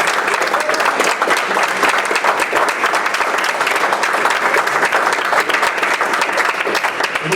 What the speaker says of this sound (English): round of applause for cross country.